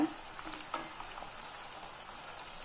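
Cauliflower Manchurian fries in oil in a pan over a medium flame, giving a steady, soft, even sizzle with faint scraping and clinks as the pieces are gently tossed.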